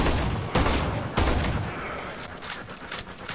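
Shotgun fire in the video game Warframe, several sharp blasts, one near the start and another just past a second, followed by a rattle of smaller shots, each decaying into a noisy tail.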